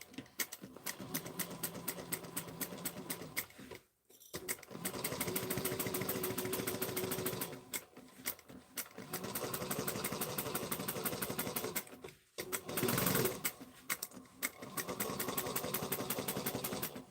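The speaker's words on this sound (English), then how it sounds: "So a 1/2 inch, I'm going to back stitch at the beginning and the end." A sewing machine runs in long steady bursts, stitching a half-inch seam with back stitches at the start and end, pausing briefly between runs; the motor whirs close and continuous, with no talking.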